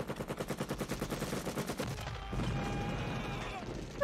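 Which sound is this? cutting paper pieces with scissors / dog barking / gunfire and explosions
gunfire and explosions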